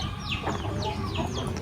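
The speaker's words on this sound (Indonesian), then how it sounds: "Selain kambing juga warga kampung ini juga beternak ayam nih." Village chickens kept in a coop in a rural kampung, several birds clucking and squawking in short overlapping calls at moderate distance, fairly faint against a background murmur.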